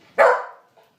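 A German Shepherd dog gives a single loud, close bark with a short tail, followed by a faint, brief yip just before the end.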